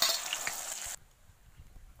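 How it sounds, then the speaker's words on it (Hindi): Onions fry in a pan with a loud, bright sizzle for about a second before it cuts off abruptly, leaving only faint low rumbling. "अभी प्याज को फ्राई।"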